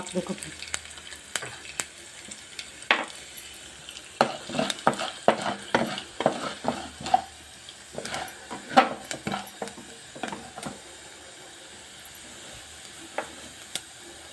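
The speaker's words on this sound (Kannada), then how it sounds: "ಕಡಲೆಬೇಳೆ ಆದಮೇಲೆ ಸ್ವಲ್ಪ ಉದ್ದಿನ ಬೇಳೆ ಅದು ಫ್ರೈ ಮಾಡ್ಕೋಬೇಕು" Chana dal and urad dal frying in a pan for a chutney powder, with repeated scraping stir strokes and a soft sizzle running steadily underneath, close and moderately quiet.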